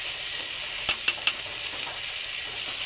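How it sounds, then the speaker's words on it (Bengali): Crumbled paneer frying with masala in a pan, a steady close sizzle throughout with three light scrape or clink accents near the middle, no voices. "তো এই পর্যায়ে আমি দিয়ে দেবো এই যে পনিরটা। ঝুড়ো পনির, তো ঝুড়ো করে দিব অল্প"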